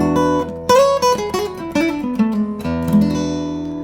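Blues guitar lick played at full speed on guitar, a quick run of bright single notes with slides, bends and overlapping ringing tones, close and clear with no talking.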